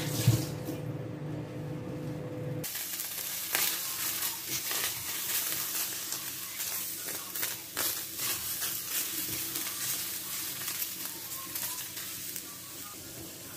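Chili peppers braise and sizzle in a frying pan with a soft, steady hiss and light crackle, heard close and fairly quiet, with a brief stirring noise at the start.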